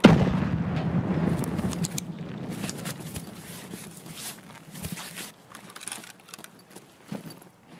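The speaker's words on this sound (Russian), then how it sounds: "Тактическая граната, да. Все было рассчитано, чтобы она оглушила его" A tactical grenade goes off in Escape from Tarkov, with a sharp blast at the start followed by ringing, muffled rumble and scattered clicks and shuffling gear noises fading over several seconds.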